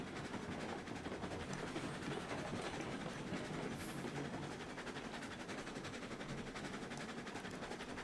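A train runs on rails in the video game Railroads Online, making a continuous loud rolling rumble with a dense rattling clatter that holds steady throughout, with no voices.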